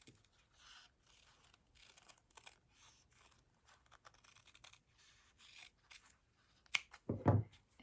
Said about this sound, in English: I'm going to trim this